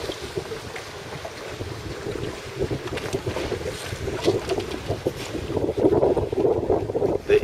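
Gusty wind buffets the microphone aboard an RS700 sailing dinghy on Lake Garda, with water rushing and splashing against the hull, growing louder toward the end.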